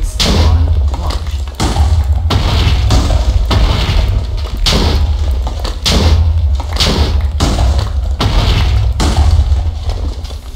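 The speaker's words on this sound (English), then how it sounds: "as you can see, it summons in TNT. That, of course, activates on launch." Repeated TNT explosions in the Minecraft video game, triggered by a custom spawn egg, come as a steady run of loud, booming thuds with brief pauses, filling the whole stretch without speech.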